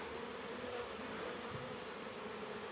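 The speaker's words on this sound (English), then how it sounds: "That's a lot of bees." Honey bees swarm and buzz at an opened hive during a honey harvest, giving a steady, dense hum that carries on without a break and with no talk over it.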